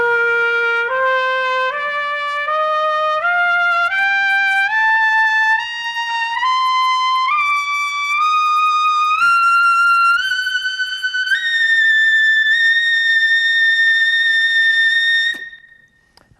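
Trumpet climbing stepwise from C in the staff up to double C above the staff, each held note bright and sustained, loud and close with no talking.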